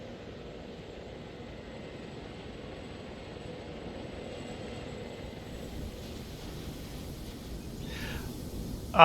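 Helicopters in the video game Arma 3 drone with a steady, low rotor and engine rumble as one lands and others hover, distant and even throughout, with a brief higher burst of sound at the very end.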